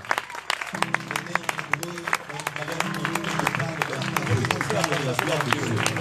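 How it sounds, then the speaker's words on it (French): Worship congregation clapping in church, brisk individual claps ringing out over a low hum of voices and background music, growing fuller and busier toward the end. "lorsque nous joignons nos mains pour célébrer le Seigneur"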